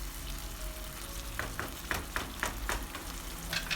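Meat and vegetables being stirred in a pan after boiling water is added, a steady sizzling bubble underneath with a string of soft scraping utensil strokes in the second half.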